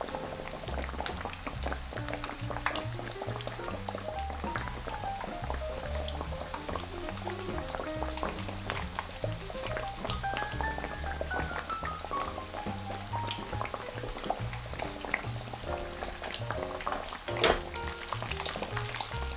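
Breaded pork cutlet, tonkatsu, deep-frying in oil held below 170 °C at medium-low heat, a dense, steady bubbling crackle close up for the whole stretch, with one brief louder pop near the end and no talking.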